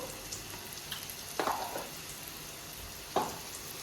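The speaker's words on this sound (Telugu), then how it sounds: "ఇట్లా ఫ్రై చేసుకోవాలి" Bitter gourd fries in a pan with a faint, steady sizzle, broken by two brief louder crackles or stirring sounds.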